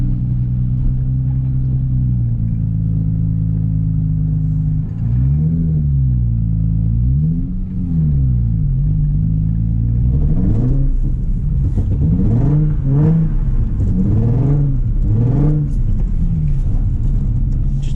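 A Nissan 350Z engine drones steadily, then surges through repeated throttle blips and revs while drifting, rising and falling in rhythmic waves, loud and close with no talking.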